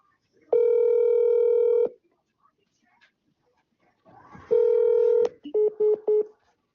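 Telephone keypad tones dial a cell phone number: one long steady tone, a pause, a second long tone, then a quick run of short beeps in a clear rhythm.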